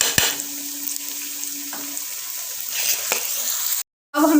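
Onions fry in oil in a pan for beef karahi, giving a steady close hiss and sizzle that cuts off briefly near the end.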